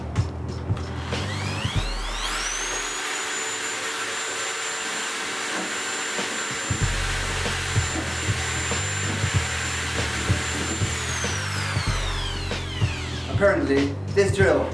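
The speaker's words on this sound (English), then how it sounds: "Let's see what damage this drill can do to it." A power drill whines steadily against the body of an OUKITEL WP6 rugged phone, a high sustained motor tone with grinding contact noise, spinning up, running for several seconds and winding down near the end.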